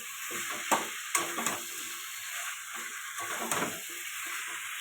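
Tomatoes are stirred into chicken frying for a curry, a soft continuous sizzle broken by several sharp scrapes and knocks of a spoon against the pan, close by and without talk.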